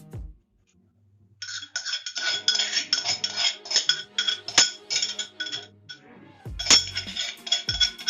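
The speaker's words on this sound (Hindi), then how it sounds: "इसमें मैं ये जितना भी अपना कुटा हुआ मसाला है वो सारा का सारा डालकर मिक्स कर लूंगी।" A metal spoon stirring crushed spices into green yogurt raita, a loud run of rapid clinks and scrapes against the bowl, a brief pause, then another burst of clattering stirs, with no talking.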